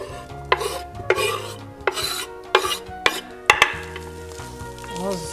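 Sujuk sausage fries in a pan with a little oil over minimal heat, a continuous close sizzle broken by several sharp stirring clacks and scrapes of a utensil against the pan.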